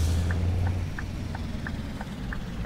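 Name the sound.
Scania T Series truck engine in Euro Truck Simulator video game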